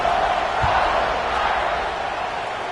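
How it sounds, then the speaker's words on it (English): A loud stadium crowd roars steadily at a college football kickoff, Louisville at Notre Dame, a dense wash of cheering and yelling with no break. "this crowd is feeling themselves after that last drive"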